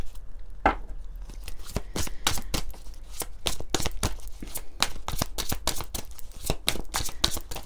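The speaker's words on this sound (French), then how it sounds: "on va prendre quelques cartes de l'oracle des astres" Oracle cards are shuffled by hand, a rapid series of crisp, close slaps and riffles in an uneven rhythm, continuing throughout with no talk.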